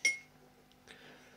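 A metal spoon clinks once, bright and close, against a mug while coffee is made, followed by a faint scrape and a softer rattle in an otherwise quiet kitchen.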